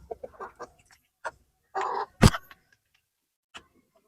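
Rhode Island Red chickens in a backyard, given homemade probiotic water, make short, scattered clucks and one sharp louder squawk, with quiet gaps between.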